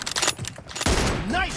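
Sniper rifle shots in the mobile shooter BGMI during a team deathmatch, with a sharp loud report followed by echoing gunfire and game effects under players talking.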